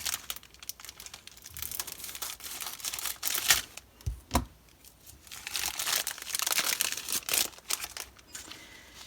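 Plastic mailer packaging crinkles and rustles as a happy mail swap package is cut open at the bottom. The sounds are soft and close, with scattered crackles and tearing noises and a louder snip near the middle.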